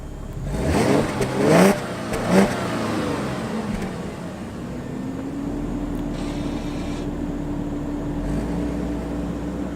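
An Audi Q7 SUV engine pulling away: a few quick, loud revs up front, then a steady, moderate hum of cruising with a faint rising whine, and no one speaking.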